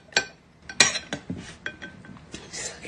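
A spoon clinks against a cereal bowl during eating, with a few sharp separate taps and clinks spread irregularly over a few seconds, close and fairly quiet.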